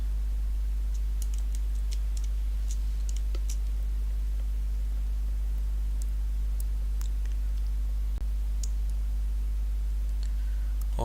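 Keys on a computer keyboard used for digital painting in open source software click in sparse, irregular taps, single and double presses spread over eleven seconds above a constant low electrical hum.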